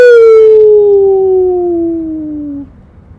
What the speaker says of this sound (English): And then you see bark, bark, and you see howl.